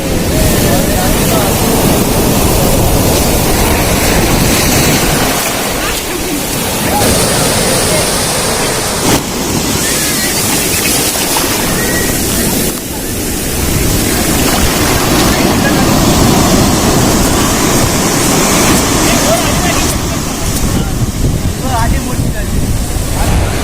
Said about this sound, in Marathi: कसल्या लाटा येतात त्या